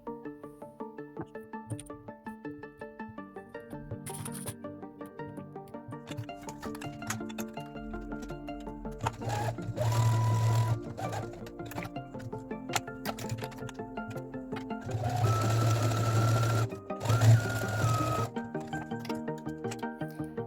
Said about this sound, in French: Et je vais coudre la partie haute, donc avant les poches, et à la partie basse, après mes poches.